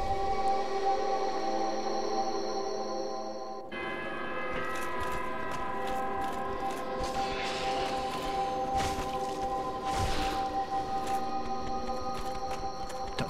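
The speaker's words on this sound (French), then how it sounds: "Cette putain de sirène." A siren in the video game Dark Souls Remastered drones as a loud, sustained, tonal wail with layered ringing pitches, and clanks and impacts from the game mixed in.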